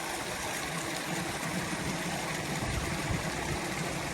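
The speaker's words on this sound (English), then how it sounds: "This is Yosemite Creek." Yosemite Creek running high with heavy snowmelt, a steady broadband rush of flowing water that stays constant and close throughout, with no voices.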